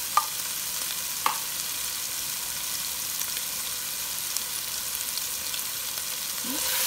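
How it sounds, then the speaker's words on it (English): Tomato paste cooking in a pan gives a steady, fairly quiet sizzle that holds through the whole stretch, broken by a few brief clicks and scrapes and a small clatter near the end. "just make sure and cook the tomato paste for a couple minutes"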